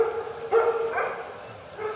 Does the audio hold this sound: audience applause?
no